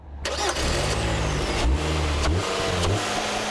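A 2010 Kia Sportage with a 2.4-litre four-cylinder engine and six-speed automatic pulls away, its engine note climbing loudly through revs with audible gear changes, close and continuous without speech.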